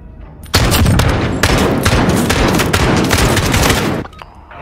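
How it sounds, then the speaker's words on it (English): A decoy grenade in Call of Duty Modern Warfare fakes a loud, rapid burst of gunfire, a dense crackle of shots lasting several seconds before cutting off abruptly. "It's a decoy grenade."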